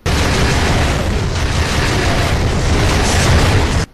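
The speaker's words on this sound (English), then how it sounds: "the Enforcer rocket launcher is somewhat amusing" A rocket launcher explosion in Duke Nukem Forever makes a loud, sustained roar of blast and rumble that holds steady for nearly four seconds, then cuts off sharply.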